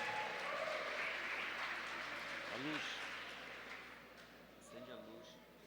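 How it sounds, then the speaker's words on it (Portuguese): An audience at an education seminar on gender diversity applauds a speaker with a broad, fairly distant wash of clapping that slowly fades, while a voice speaks briefly over it. "Uma salva de palmas mais uma vez para a nossa palestrante"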